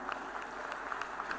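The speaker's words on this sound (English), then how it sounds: "let the claps keep rolling, ladies and gentlemen" Audience applause at the Bio Asia 2025 award ceremony at HICC, as the Genome Valley Excellence Award 2025 is presented: a steady, dense patter of many hands clapping, moderately loud and continuous, with no one talking over it.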